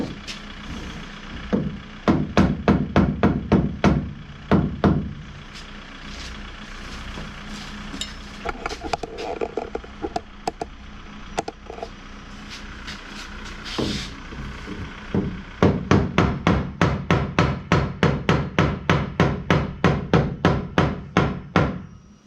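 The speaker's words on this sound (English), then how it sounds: "I'll knock that down a little bit with a hammer and get that in the right position." Repeated hammer blows knock down a fiberglass tonneau cover frame, sharp metallic strikes in quick bursts, some near-rhythmic runs of evenly spaced hits, loud and close with no talking.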